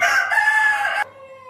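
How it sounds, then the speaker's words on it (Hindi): A rooster crows loudly and close by, one sustained harsh call lasting about a second before it cuts off, leaving faint background noise. "काफ़ी ज़्यादा शोर कर रहा मुर्गा देखें"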